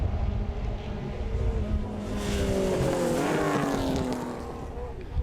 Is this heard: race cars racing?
yes